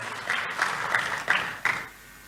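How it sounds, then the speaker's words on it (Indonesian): A church congregation applauds together, a steady wash of clapping with a few rhythmic accents, fading out after a couple of seconds. "Tepuk tangan dulu yang meriah buat Tuhan Yesus."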